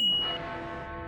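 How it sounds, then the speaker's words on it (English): A single bell strike rings out with a sharp metallic onset and a long, slowly fading resonant hum, loud and close, with no other sounds around it. "Gee, I wonder for whom that bell tolls."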